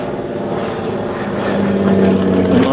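Propeller-driven Antonov An-2 Colt cargo biplane engine droning steadily at close range, growing slightly louder toward the end with a rising tonal whine.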